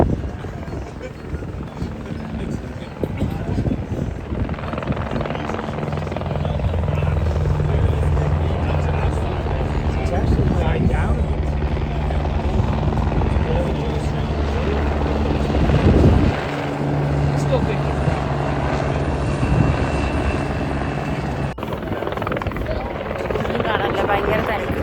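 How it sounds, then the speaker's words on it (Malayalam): Helicopters flying overhead at a SailGP sailing event, a continuous loud rotor thrum and engine drone sustained throughout, with crowd voices and talk mixed in underneath. "ഒരു 3 ഹെലികോപ്റ്റർ പറന്ന് നടക്കുന്നുണ്ടായിരുന്നു."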